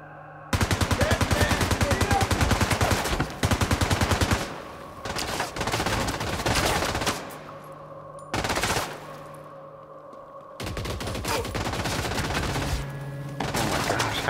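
Incendiary bullets fly in The Division 2 as loud, rapid automatic gunfire rattles in long bursts separated by short gaps, with scattered quieter shots between volleys.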